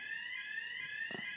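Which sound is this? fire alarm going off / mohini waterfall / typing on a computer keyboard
fire alarm going off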